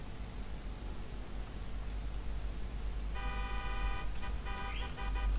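A car horn in the GTA video game sounds in several short, buzzy toots over constant low engine and road noise, starting partway through the clip and repeating in quick bursts.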